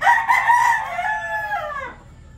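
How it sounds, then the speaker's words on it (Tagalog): A six-month-old Boston Black hen crows loudly and close by in a single drawn-out call lasting about two seconds, with no talking over it. "Mga 6 months lang po itong Boston Black na babae."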